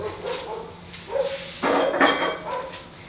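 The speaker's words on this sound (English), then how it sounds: "Sorry if you could hear the dog." A dog barks a few times nearby, short separate barks spread unevenly over a few seconds.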